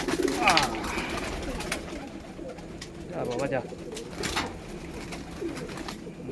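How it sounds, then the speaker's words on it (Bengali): Pigeons coo steadily, close and continuous, as they are let into a net enclosure, with wing flutters and a voice urging them along. "সেভেন্টি পার্সেন্ট এইটটি পার্সেন্ট পায়রা ঢুকেছে আর কিছু পায়রা বাকি আছে এগুলোকেও ঢুকিয়ে নেবো"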